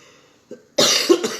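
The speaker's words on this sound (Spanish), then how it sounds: "Perdón con la tos." A single sharp, harsh cough from a man, preceded by a faint throat sound, bursting loudly after near silence and trailing off in a couple of rough spasms.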